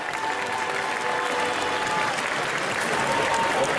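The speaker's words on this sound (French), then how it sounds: "Là, on l'applaudit bien fort, s'il vous plaît." A packed indoor cosplay contest audience applauds a contestant, a thick, steady roar of clapping with crowd murmur beneath and faint tonal sounds in the background, continuing evenly throughout.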